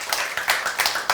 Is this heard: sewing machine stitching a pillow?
no